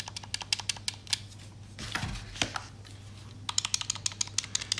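Buttons on an Xbox One Elite controller pressed repeatedly, giving a run of sharp, close plastic clicks in quick rhythm, a short pause with a soft shuffle, then another burst of clicks.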